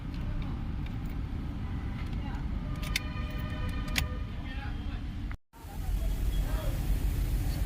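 A misfiring vehicle engine starting and running roughly with a loud, steady low rumble, then abruptly cutting out and stalling before it turns over again.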